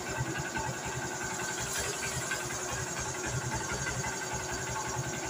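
A Honda CB Shine 125 motorcycle engine idles close by at slightly high RPM, giving a steady, even mechanical chug with a light rattling texture throughout, no voices.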